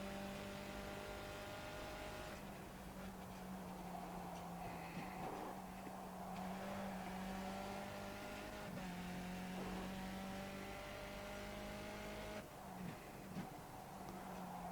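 A Skip Barber race car is pushed hard around Imola in the iRacing sim, its engine a continuous close buzzing drone that rises and falls in pitch through gear changes and braking.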